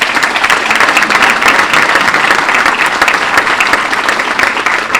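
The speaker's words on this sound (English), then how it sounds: "So please give them another round of applause." A large audience at a community report event breaks into loud, dense applause, sustained evenly throughout with no talking.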